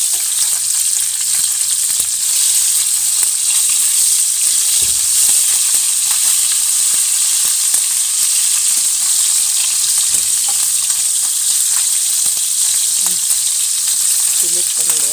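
Loud, steady sizzling of food frying in a pan, a continuous crackling hiss with occasional stirring clinks.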